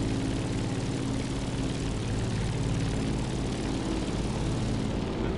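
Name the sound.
old 1942 propeller plane engine in a video game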